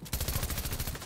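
Rapid automatic machine pistol (SMG) fire from the video game Fortnite, a steady burst of closely spaced shots running for about a second, loud and alone with no talk.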